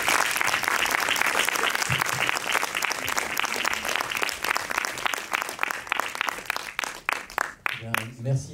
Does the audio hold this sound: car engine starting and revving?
no